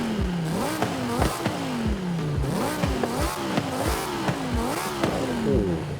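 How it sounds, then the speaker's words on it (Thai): The V10 of a 2013 Audi R8 V10 Plus, the same engine block as the Lamborghini Gallardo, revs in Forza Horizon 5, snarling up and dropping back in about seven quick, close, loud throttle blips in steady rhythm. "ฟังเสียงเครื่อง V10 ซะหน่อยดิ"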